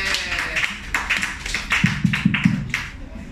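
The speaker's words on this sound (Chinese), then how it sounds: "俾掌声俾" A small group claps at a casual indoor gathering, a short patter of scattered, uneven hand claps, close and fairly loud, tapering off after a few seconds.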